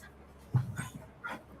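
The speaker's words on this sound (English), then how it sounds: "The dogs are chasing each other again." Dogs chasing each other make a quick flurry of short yips, whines and panting, close by and fairly soft, over a low background hum.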